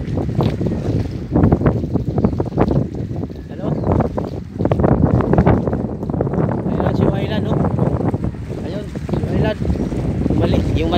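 Choppy sea waves slap against a fishing pier while gusty wind buffets the microphone, making a dense, rumbling wash of surf and wind noise that runs the whole way.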